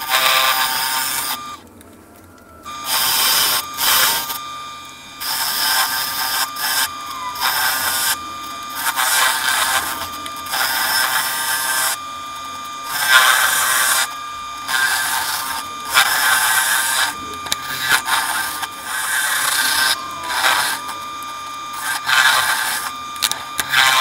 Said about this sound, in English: So now I'm gonna try, basically start hollowing out the inside of this.